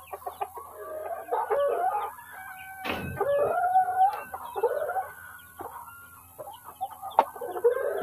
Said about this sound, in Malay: Kita buat masuk ayam dulu